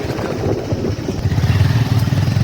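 A motorcycle engine idles and putters close by, its low rumble pulsing unevenly with slight revs as the bike is ridden up and brought to a stop for parking.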